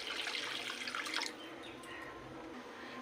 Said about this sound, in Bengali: আগের থেকে উষ্ণ গরম জল করা সেটা দিয়ে দেবো এখন।